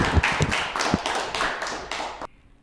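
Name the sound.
audience applause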